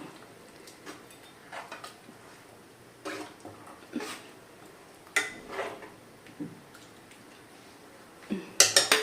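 A cooking pot is shifted and set down on a kitchen stove while a chicken curry is made, giving a series of sharp metallic clanks and knocks spread irregularly over time, with a cluster of louder clatters near the end.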